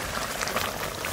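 Rohu fish curry with mustard paste bubbling in a pot, a dense, steady simmering hiss with soft popping, close and continuous without speech.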